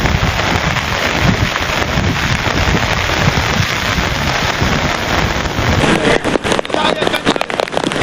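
Heavy rain pours down in Nizamabad, India, in a dense, constant roar; near the end individual drops splatter louder and closer.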